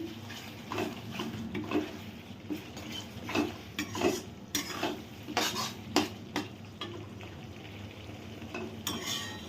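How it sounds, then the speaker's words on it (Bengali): Spice paste for pabda fish jhal is sautéed and stirred in a pan, with rhythmic spatula scrapes and knocks repeating over a steady close sizzle. "মশলাটা আমার কষানো চলছে খুব সুন্দরভাবে আমি মশলাটাকে কষছি"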